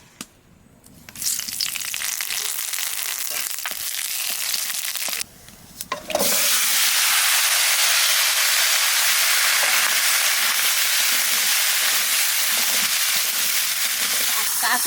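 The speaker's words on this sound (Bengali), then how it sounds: "তেলের পর দিয়ে দেবো জিরে আর তেজপাতা।" Cumin seeds and bay leaves hit hot oil in a Bengali kitchen, bursting into a loud, steady sizzle that holds at full strength after a brief pause, with faint voices early on.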